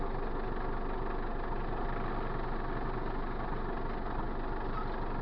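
An MTZ-82 tractor engine idles with a steady, loud low rumble that holds unchanged throughout, close by and without speech.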